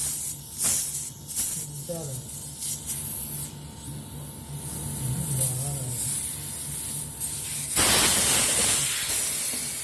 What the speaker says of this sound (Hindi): तो जो भी अंदर थोड़ी मैंने गैस बची है या कुछ भी बचा है वो सारा निकलना चाहिए